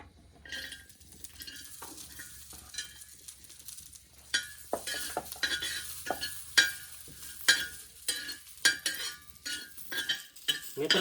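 Grated coconut being dry-roasted and stirred in a kadai over a wood-fired chulha, with soft sizzling under repeated scraping and clinking of a spatula against the pan, growing busier and louder in the second half.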